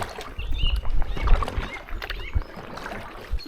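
Paddle strokes dipping and pulling through water beside a drop stitch packraft moving at a steady pace, close splashes and gurgles with faint birdsong behind.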